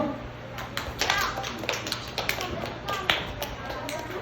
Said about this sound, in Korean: 우리 친구 박수!